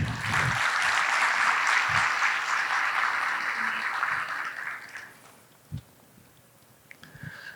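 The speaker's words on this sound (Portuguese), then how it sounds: "Por favor, uma salva de palmas" An audience applauds a guest called to the stage at an industrial fermentation technology talk, a full steady burst of clapping that fades after about five seconds into quiet room noise with a few stray sounds.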